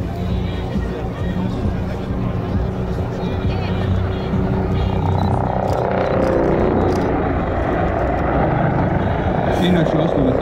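Military helicopter flying at an air force base day air show in Zemunik, Croatia, a steady loud rotor and engine roar filling the whole stretch, with crowd babble and voices mixed underneath.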